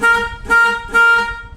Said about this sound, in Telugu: హార్న్స్ కూడా వచ్చేసరికి రెగ్యులర్గా బుల్లెట్ హార్న్స్ కాకుండా ఈసారి ఎయిర్ హార్న్స్ ఇచ్చారు